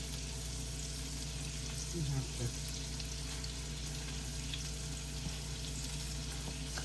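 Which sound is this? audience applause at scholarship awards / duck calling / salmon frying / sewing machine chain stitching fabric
salmon frying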